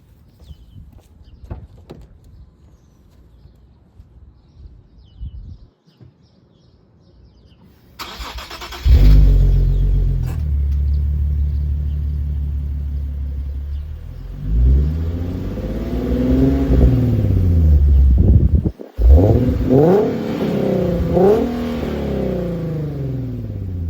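A 2018 Nissan 370Z Sport engine idles quietly, then roars loudly as it revs up and down repeatedly to about 5,000 RPM, close by, with no talking.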